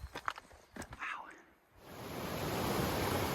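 Mountain creek running beside a hiking trail in the Weminuche Wilderness, a broad steady rush of flowing water rising and holding after a few crunching footsteps and brushing movements at the start.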